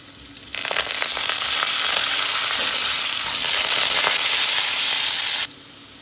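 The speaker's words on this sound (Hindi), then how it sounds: "इसमें हम मिर्ची डाल देंगे और करी पत्ते।" Green chillies and curry leaves hitting hot oil for a masala aloo dosa filling, bursting into a loud, close spluttering sizzle that holds steady for several seconds before cutting off abruptly.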